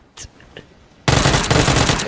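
Gunfire from PlayerUnknown's Battlegrounds: after a second of near quiet with a couple of faint clicks, a loud, close, rapid burst of automatic shots erupts and continues to the end.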